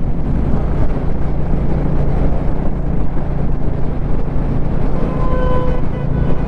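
A Royal Enfield Bullet 350 cruising in top gear at around 80 gives off a steady engine thrum, buried under heavy, continuous wind rush, with no voices.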